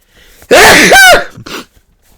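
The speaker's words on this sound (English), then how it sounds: "I sneezed my way out of the page." A single loud, close sneeze with a sharp intake and explosive burst, followed by a short breathy exhale.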